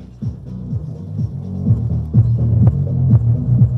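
Deep bass music from a modded Logitech X530 subwoofer converted into an active sub, throbbing low notes in a pulsing rhythm, fairly loud and close with no talking.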